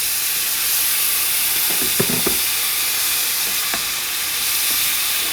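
Unsalted beef broth poured into a hot pan, a steady broad hiss and steamy sizzle with a few brief clinks and bubbling bursts, close and fairly loud, with a short spoken phrase.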